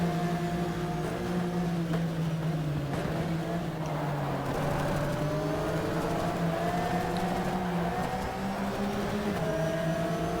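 Race car engine in GTR 2 (Pan Euro Rookie Cup) droning steadily throughout, with several whining tones rising and falling as the car shifts and accelerates, loud and continuous with no talking.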